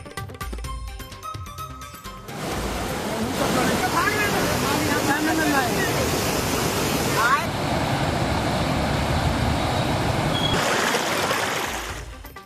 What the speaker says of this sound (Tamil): பீகாரில் கனமழை வெள்ளத்தால் குடியிருப்புகளை சூழ்ந்த தண்ணீர்